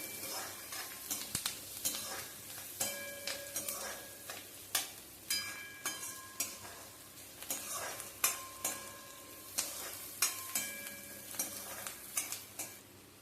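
Onions sauté in a pan under a soft sizzle while a metal spoon or spatula scrapes and clinks against the pan in a quick, irregular rhythm of repeated strokes, close up with no voices.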